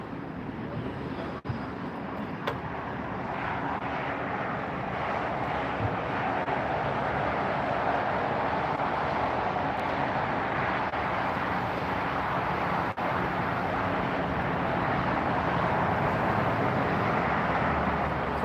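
A Qantas airliner taxiing and turning at LAX, a steady broad distant engine rumble and whine that holds level throughout.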